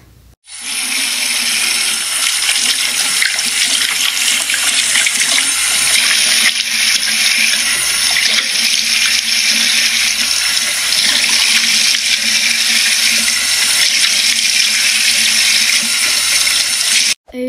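Steady running water from a bathroom tap in the Roblox game Berry Avenue, a continuous loud gush for face washing that stops abruptly near the end, with no talking.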